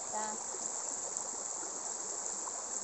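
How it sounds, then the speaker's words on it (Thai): Clear mountain water runs downhill in a stream, making a steady, close rushing and trickling wash that fills the whole moment, with a brief voice at the very start. "น้ำไหลลงจากเขา"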